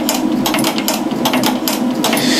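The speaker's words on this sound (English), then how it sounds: "So this one will sew an inch of leather." A leather sewing machine stitching heavy leather runs steadily and close up, its rapid rhythmic mechanical clatter continuous and loud, with no talking.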